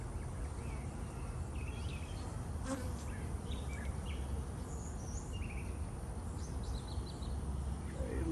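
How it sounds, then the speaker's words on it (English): Continuous hum of many bees buzzing close by at a hive, steady throughout, with faint birdsong in the background. "Bees here."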